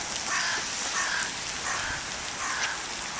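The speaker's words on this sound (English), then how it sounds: "And the rain. Coming down quite hard." Heavy rain pouring down outdoors on a dark day, a steady, dense hiss of drops that fills the whole stretch with no pauses and no voices.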